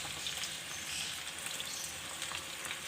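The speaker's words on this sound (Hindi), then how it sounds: "टमाटरों को हम हल्का फ्राई करेंगे।" Tomatoes frying in a pan give a steady, close crackling sizzle with scattered pops, continuous and alone without any talking.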